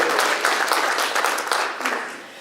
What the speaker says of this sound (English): So if we give a round of applause for all these folks that are here for you.